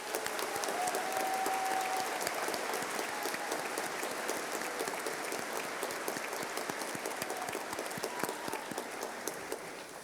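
Sustained, dense applause from a large crowd fills the hall at a college of engineering graduation ceremony, loud and continuous with scattered cheers, easing slightly toward the end.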